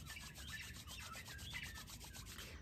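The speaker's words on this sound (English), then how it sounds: "So rub your hands together." Palms rubbing briskly together in a continuous dry swishing, close and steady for a few seconds, with no voices, during a jungle meditation.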